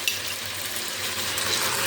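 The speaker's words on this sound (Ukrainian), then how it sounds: "Так, і підсмажу картоплю" Potatoes lightly frying in a pan while making solyanka, a steady close hiss and crackle of sizzling oil that runs without a break and without talk.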